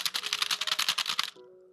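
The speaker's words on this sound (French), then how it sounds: "je sais pas si t'arrives à écouter à entendre mon clavier" Rapid keystrokes clatter on a computer keyboard in a quick, close burst of a dozen or so clicks, then stop, leaving a faint low hum.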